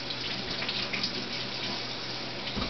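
A bathtub tap runs steadily at close range, filling the tub for a Havanese puppy's bath, with a dense, even rush of water that does not let up and no voices over it.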